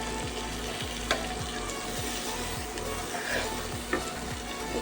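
Chopped carrots and cabbage stir-fried in a pan for chicken thukpa give a soft, constant sizzle under regular scraping stirs, with a couple of louder clinks, and no voices.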